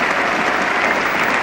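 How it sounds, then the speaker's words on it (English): A very good crowd at Lord's cricket ground gives batsman Alan Knott a standing ovation after his 1974 Test innings against Pakistan, a loud, dense and continuous wash of clapping. "here he is now being applauded out, given a standing ovation by this very good crowd here at Lord's."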